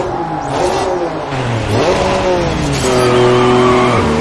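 Race cars at the start of a race at Crescent Valley Raceway in the racing game GRID (2019), loud close engines revving and accelerating with rising and falling whines, several cars layered together and continuous throughout.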